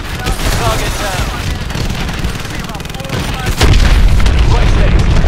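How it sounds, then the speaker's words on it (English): Missile explosions striking targets in an Ace Combat flight combat game: dense, loud rumbling booms and crackling blasts over a constant roar, intensifying into a heavier blast near the end, with game radio voices mixed in. "Lock onto those hard points and hit them with your missiles. Target down."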